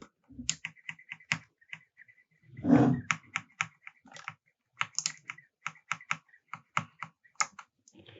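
Sharp, crisp clicks from a clicky mechanical switch on a SteelSeries Apex 5 keyboard, pressed repeatedly in an uneven rhythm, with one brief louder rustle in the middle.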